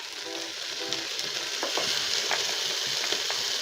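Tomatoes frying in a pan while making ragi soup, a steady close sizzle with scattered crackles and occasional stirring clicks throughout, no talk.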